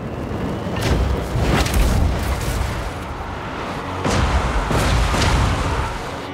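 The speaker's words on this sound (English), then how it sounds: "Cannons fire upon the defenders." Cannons in the Total War Warhammer 3 video game fire in a barrage of deep, booming blasts, several heavy shots rolling over a constant roar of battle noise.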